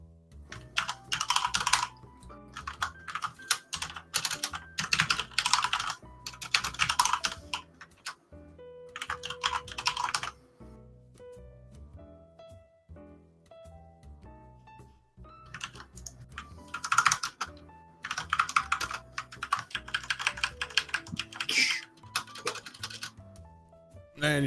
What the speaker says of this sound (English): And you're typing.